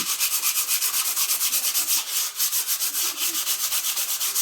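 Rapid, rhythmic back-and-forth rasping of sandpaper scrubbing a surface, steady and close with no voices.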